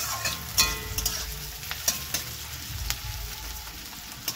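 Three onions fry in a pan for a greens dish, giving a constant close sizzle broken by repeated sharp clicks and scrapes of stirring, with no voices.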